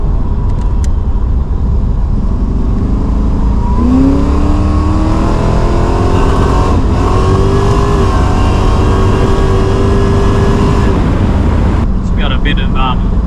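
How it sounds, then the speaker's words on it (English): A supercharged Holden VL Calais engine revs hard and close, a loud continuous roar with rising and falling pitch sweeps as the RPM climbs, turning rough and uneven at the top before dropping off near the end. "Bit of huffing and spluttering then at higher RPM, not sure what that was about."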